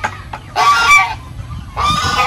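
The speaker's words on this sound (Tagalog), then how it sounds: "Yung kagandahan sa gansa, pag may bagong tao na papasok po sa area, ay ano po yan, mag-iingay kung hindi niya po kilala" Geese on a poultry farm let out two loud, raspy honks close by, separated by a short pause with faint background noise.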